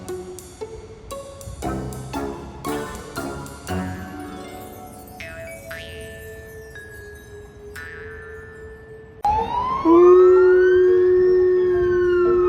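A dog howls in a rising and falling wail that imitates an ambulance siren. It grows loud and sustained near the end and follows a stretch of musical backing.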